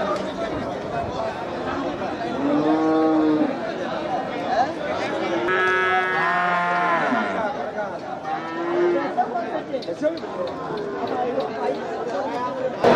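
Cattle moo repeatedly at the Melapalayam cow market, several drawn-out calls up close amid a busy murmur of people chatting and bargaining nearby.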